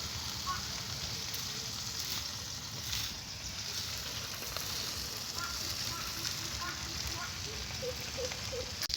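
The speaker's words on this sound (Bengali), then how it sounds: "চিংড়ি মাছটা ভাজা হয়ে গেছে," Prawns fry in a pan, kept as a steady, dense sizzle and crackle that runs unbroken and fairly loud for the whole stretch, with faint scattered pops on top.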